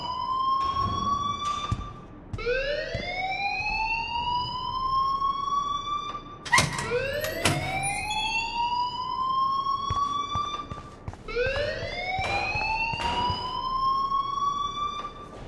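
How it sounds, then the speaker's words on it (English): School alarm ringing in the Life is Strange video game at a high school, a loud rising electronic wail that sweeps upward repeatedly in cycles, with no talk over it. "please turn off that alarm since that's your job"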